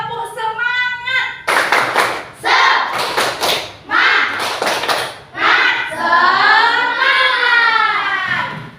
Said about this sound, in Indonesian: Mari kita mulai dengan tepuk semangat.